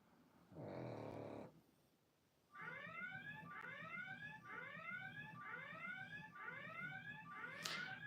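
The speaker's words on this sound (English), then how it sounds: "Red alert alarm sounded." Amazon Alexa sounds the Star Trek red alert: a short buzzing tone, a brief pause, then a steady run of rising whooping siren calls, loud and close with no talk over them.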